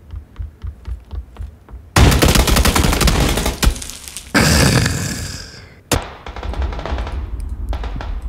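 Rapid gunfire in the battle royale game PUBG (Battlegrounds): light clicks, then loud sustained bursts of automatic fire and a couple of sharp single shots, close and heavy.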